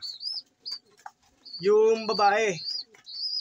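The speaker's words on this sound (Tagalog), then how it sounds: "sinusubuan ni Jumbo ang pinasiting natin sa kanila na ibon" Young pigeon chicks being fed give thin, high repeated chirps in short bursts, close by, while a person speaks briefly in the middle.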